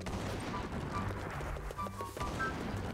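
Sustained gunfire rattles through a Minecraft zombie apocalypse game, a steady stream of overlapping shots at moderate loudness with game sounds layered underneath.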